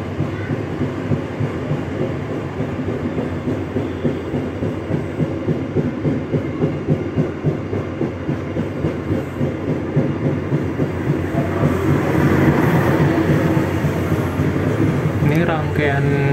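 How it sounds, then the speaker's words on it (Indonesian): The Jayabaya passenger train rumbles steadily along the rails with a rhythmic clatter, loud and continuous, while a voice speaks over it. "Ini rangkaian untuk kereta api Jayabaya"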